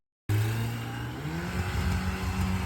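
Yamaha FJR1300 motorcycle engine revving hard and over-revving at low speed, a loud continuous close-up drone with rising and falling pitch sweeps during slow-speed practice by a new rider.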